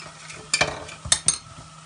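Pieces of dough dropped one by one into hot oil, giving a soft background sizzle with a few brief bursts of bubbling and clinks, faint and close.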